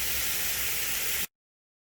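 Short ribs browning in a big pan give a steady, even sizzling hiss that cuts off abruptly after about a second.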